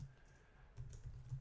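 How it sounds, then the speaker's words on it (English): Keys tapped on a computer keyboard while C# code is entered, a few soft, close clicks in quick succession, faint and brief. "So I'm going to type in system.console.writeline."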